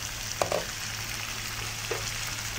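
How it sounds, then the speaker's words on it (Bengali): Chicken kosha fries in oil that has separated from the meat, giving a steady close sizzle. Two brief stirring scrapes break through, one early and one later, with no voices. "মাংসটা তেল ছেড়ে দিয়েছে। ভালো করে আমাকে কষিয়ে নিতে হবে।"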